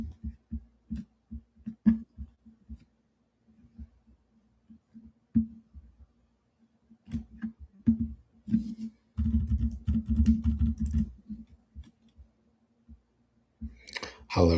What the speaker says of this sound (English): And I'll be typing.